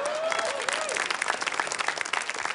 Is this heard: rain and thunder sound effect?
no